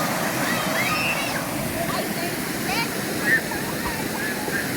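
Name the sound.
waterfall water splashing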